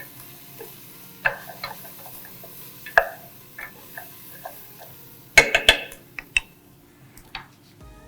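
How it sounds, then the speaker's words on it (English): A spoon stirs creamy tomato soup in a pot just after paprika goes in, giving soft scraping knocks and clinks against the pan, scattered and close, with a brief cluster of louder taps near the end. "Give that a little stir."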